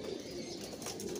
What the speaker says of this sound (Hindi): बहुत ही अच्छे लाजवाब ये दोस्तों कबूतर हैं